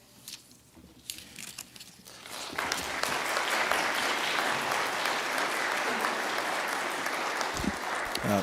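Audience at a community meeting in Holy Redeemer Church, Evansville, breaks into steady applause for Assistant Police Chief Phil Smith, starting with a few scattered claps and swelling into sustained clapping from the room.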